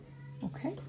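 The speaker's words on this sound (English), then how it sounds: "that is my cat" A pet cat lets out two short, soft meows close by in a quiet room during a paper craft session, with a brief spoken word nearby.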